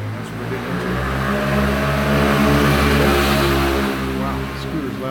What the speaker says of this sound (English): Wow, the scooter's loud.